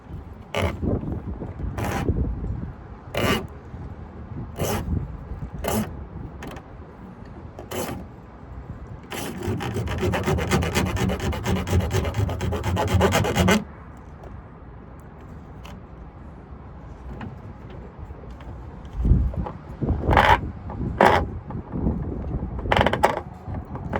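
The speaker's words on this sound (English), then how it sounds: "You gotta grab the old janky hacksaw sometimes" An old, worn hacksaw cuts on a Carolina Skiff JV17 boat, making a slow, rhythmic series of distinct rasping strokes. A denser, sustained burst of sawing comes midway, with wind noise in the background.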